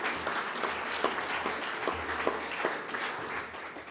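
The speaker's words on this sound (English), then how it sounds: "Give them a round of applause, please." Audience applause at an awards ceremony dinner, steady dense clapping from a room of seated guests throughout, fairly even in level with a few sharper individual claps standing out.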